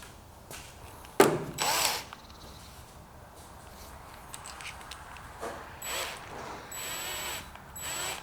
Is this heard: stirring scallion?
no